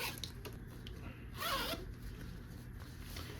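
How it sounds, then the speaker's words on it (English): A single smooth zip as an invisible zipper is pulled closed by its pull on basted fabric seam, a soft close rasp lasting under a second amid quiet room noise. "take your zipper pull and close your zipper"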